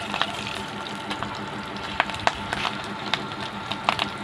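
Slit green chillies fry in hot oil in a pan for tamarind rice, a steady close sizzle with scattered sharp pops and crackles, no one talking.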